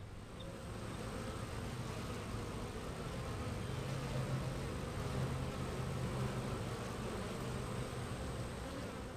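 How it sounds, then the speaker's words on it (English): Honey bees fly around hives in spring, a dense, steady buzzing hum close by and filling the whole stretch without any speech. "the bees are flying"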